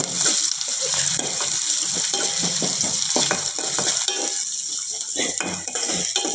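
Freshly pounded black pepper stirred into a frying pan for Telugu amla pepper rasam, a utensil scraping and clinking against the metal under steady sizzling, busy and close throughout.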